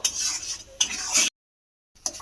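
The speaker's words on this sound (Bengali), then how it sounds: "এইভাবে একটু নাড়তে থাকবো" Masala for egg curry is stirred in a pan, two close bursts of scraping and faint sizzle before a short silence and one more brief stir at the end.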